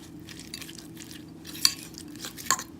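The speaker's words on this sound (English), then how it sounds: "Just add your cucumber into your yogurt. Give this a mix." Cucumber is stirred into yogurt for raita in a bowl, giving soft wet swishing with a couple of sharper clinks of a spoon against the bowl, fairly quiet over a faint steady hum.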